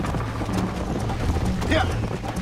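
Hoofbeats of a horse galloping in Red Dead Redemption, a rapid clip-clop rhythm running steadily beneath a voice.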